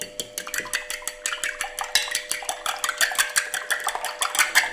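Eggs seasoned with pepper beaten rapidly with a whisk or fork in a bowl, a fast regular clatter of sharp ticking strokes, close and fairly loud, with no voices.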